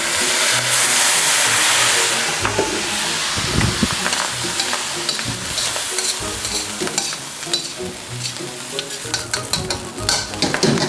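Prawn fried rice with soy sauce and Japanese sake sizzles loudly in a hot wok, with a hiss of frying and repeated scraping and tossing of the spatula against the metal, and no talking.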